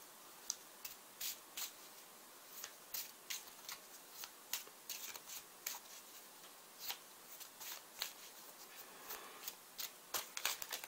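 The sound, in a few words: tarot cards being shuffled and picked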